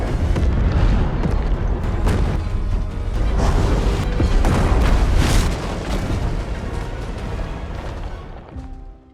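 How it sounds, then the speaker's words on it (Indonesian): A large bomb blast destroys submarines in an action film, a loud booming roar with crashing debris and rumbling waves that swell and linger for several seconds before tapering off. "Setelah ledakan yang cukup besar"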